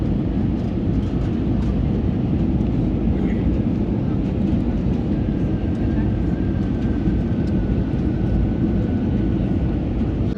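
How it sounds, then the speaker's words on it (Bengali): A passenger airplane lands at Chennai airport, heard from inside the cabin as a loud, constant low engine and airframe roar that holds steady throughout with no voices. "প্লেনটা এখন ল্যান্ড করছে"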